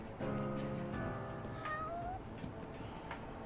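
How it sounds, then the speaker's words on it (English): Many cats yowl and meow together in a loud, dense chorus of overlapping wailing calls, steady throughout and with no talking. "I'm hearing 100 cats yelling."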